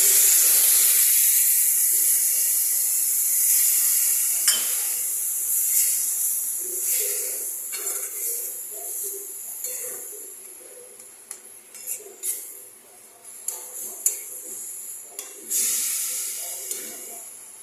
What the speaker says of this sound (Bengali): এবারে আমি এর মধ্যে অল্প অল্প করে জল দেব।